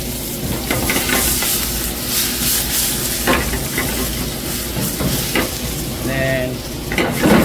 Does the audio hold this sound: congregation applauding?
no